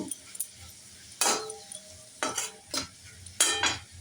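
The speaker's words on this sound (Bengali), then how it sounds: "এখন কড়াতে এই তোমার ক্যাপসিকাম একটু ভেজে নেব" Capsicum frying in a kadai: a low background sizzle broken by a handful of sharp metallic scrapes and clinks from stirring, in short bursts with gaps between them.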